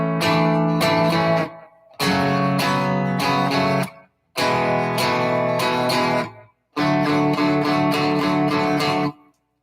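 Guitar riff built on sus chords and low-string triad shapes, played in four short strummed phrases separated by brief pauses, each phrase ringing with full chords at moderate loudness.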